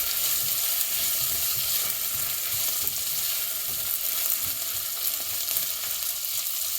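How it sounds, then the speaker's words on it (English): Onion frying uncovered in a pan for paneer makhani, a steady, dense sizzle that holds evenly throughout, close and fairly loud, with no talking. "While cooking onion"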